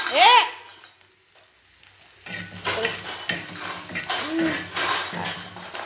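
Onions frying on a tawa with a steady sizzle and stirring scrapes, close and clear, beginning after a brief vocal sound at the start and continuing with rhythmic spatula strokes.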